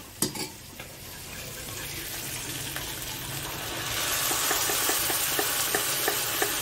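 Taro leaves drop into a hot pan and fry, a soft crackle that grows into a fuller, steady sizzle, with light stirring taps and clinks of a spatula against the pan, close by and with no voices.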